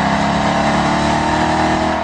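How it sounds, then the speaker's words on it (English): A Dodge Challenger SRT8's V8 engine revving hard, a loud continuous deep throaty roar held steady up close with no talk. "Its heavy V8 also makes the most sweet, caramely V8 noise of any car here, if not any muscle car ever."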